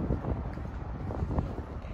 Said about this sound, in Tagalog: Medyo mahangin siya.